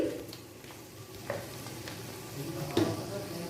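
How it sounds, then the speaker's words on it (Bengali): Wild arum leaf paste frying in hot mustard oil, a low, steady sizzle broken by occasional stirring scrapes and soft spoon knocks. "তেলটা গরম হয়ে গেছে। আমি এবার এর মধ্যে ঢেলে দেবো পেস্টটা।"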